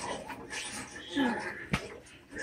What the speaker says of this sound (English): Oh, they have a dog too.